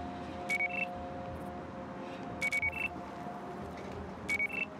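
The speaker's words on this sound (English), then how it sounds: "That alarm will call more of them in." An alarm in the video game Battlefield Hardline rings as short bursts of repeated electronic beeps, three bursts spaced about two seconds apart, over a steady low background hum.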